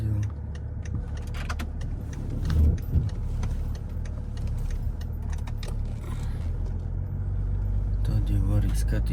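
A car drives along with a steady low engine and road rumble throughout, loose items jangling in the cabin, while people talk inside.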